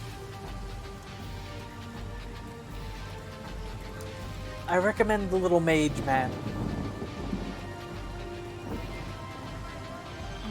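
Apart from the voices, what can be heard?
rain and thunder in a video game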